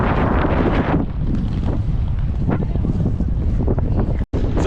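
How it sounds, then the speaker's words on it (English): Strong wind buffets the microphone on a windy London street in Bloomsbury, a loud, constant roaring rumble that swells and eases, briefly cutting out near the end, with a faint voice underneath. "It's a windy day here in London."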